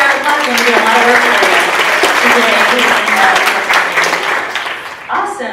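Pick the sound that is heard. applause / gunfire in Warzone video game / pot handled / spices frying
applause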